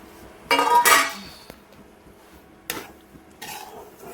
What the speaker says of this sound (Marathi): हा तुपात होतोय आपला शिरा. मस्तपैकी भाजून घ्यायचा.